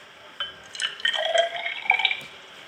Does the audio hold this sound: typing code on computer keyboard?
no